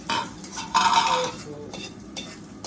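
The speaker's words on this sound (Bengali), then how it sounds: "একটু নাড়াচাড়া দিয়ে দিই।" A utensil stirs chilies frying in a pan, scraping and clinking against the metal in several uneven strokes over a low sizzle, close and fairly loud.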